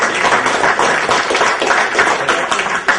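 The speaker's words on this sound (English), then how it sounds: "Let's give a round of applause." A round of applause from a seminar audience at an eagles training event, dense steady clapping from many hands, fairly close and continuous, with no talk over it.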